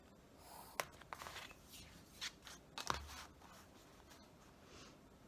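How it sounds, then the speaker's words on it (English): A pencil marks lines on paper ahead of cutting, several short scratchy strokes, faint and close, with quiet pauses between them. "I'm just going to go ahead and make some lines on these where I can cut these"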